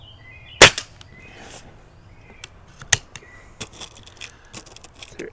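A Diana Bandit air pistol firing, with one sharp, loud crack near the start and a second fainter shot about two seconds later, separated by small clicks and handling noises.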